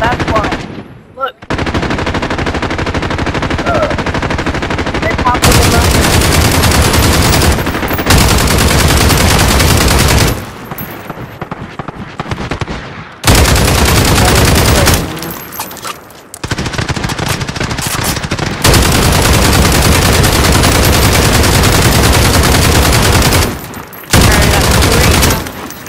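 Call of Duty video game gunfire, loud and close, with long stretches of rapid automatic fire broken by short silences across the whole span.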